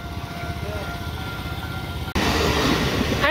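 A train rumbles past at close range, a dense low rolling roar that suddenly swells louder partway through, with no one talking over it.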